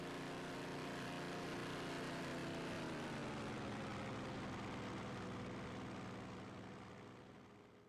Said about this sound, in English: Those planes sure are loud.